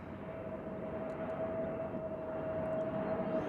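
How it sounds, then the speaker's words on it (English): An Aer Lingus airliner is pushed back at Nashville airport in windy conditions, giving a low, steady engine rumble with a thin sustained whine, moderately distant and slowly growing louder, with no talk. "Aer Lingus is being pushed back."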